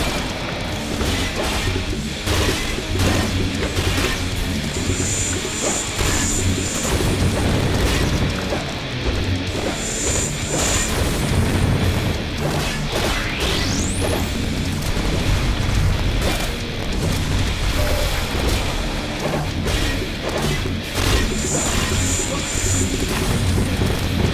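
Heavy crashing and booming explosions in the video game Valfaris roll on continuously, dense and loud, with a few high electronic beeps cutting through, like a hectic game battle.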